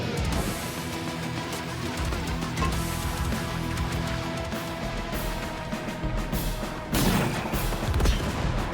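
Artillery fire in the Advance Wars Re-Boot Camp battle: a dense, continuous barrage of booming blasts layered over busy game sound, with a fresh surge of impacts near the end.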